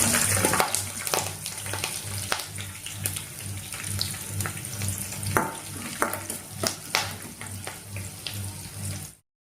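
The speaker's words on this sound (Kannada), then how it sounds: "ಹಸಿಮೆಣಸಿನಕಾಯಿ ಚೆನ್ನಾಗಿ ರೋಸ್ಟ್ ಆದ ನಂತರ ಕರಿಬೇವಿನ ಸೊಪ್ಪನ್ನು ಸೇರಿಸಿಕೊಂಡು" Green chillies and curry leaves sizzling in hot oil as tempering for poha, a steady crackling fry with sharp pops and clinks of a stirring utensil, close and alone.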